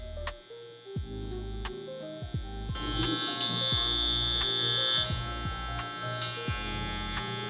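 Electric hair clippers blending out a taper line during a haircut, giving a steady close buzzing hum with faint intermittent clicks, alone without talk.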